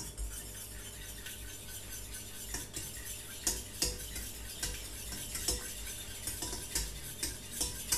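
Small whisk stirring spices into milk heating in a pan for ayurvedic moon milk, with steady clinks and scrapes against the metal pan over a soft background hiss, close and moderately loud.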